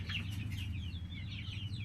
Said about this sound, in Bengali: ফার্মি মুরগির বাচ্চাগুলো কত বড় হয়েছে।